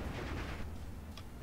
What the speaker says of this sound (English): these main gunshots are what's really sort of doing the work here